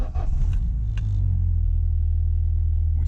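The C16SE engine of a Classic Mini starts up and settles into a steady, low, close idle rumble without any talk over it.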